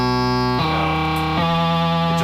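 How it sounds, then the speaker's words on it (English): A drum machine runs through a distortion and filtering pedal, producing a loud, sustained, harsh buzzing drone that shifts in texture twice as the filtered tones change, with no talking. "if I run it through this other distortion and filtering pedal"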